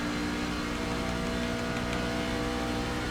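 A racing truck's engine drones steadily at partial throttle in the iRacing video game, a constant mid-level hum with little change in pitch, on a NASCAR oval at Charlotte.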